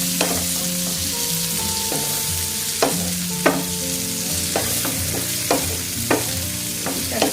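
Chopped tomatoes hit a frying pan of softened onions and sizzle steadily while a spoon scrapes and stirs them in repeated sharp knocks against the pan.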